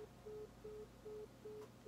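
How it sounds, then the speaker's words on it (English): Faint telephone tone pulsing in an even rhythm, five short beeps with brief gaps between them, quiet and distant with little else around it. "Yo, I swear I just heard the phone going off."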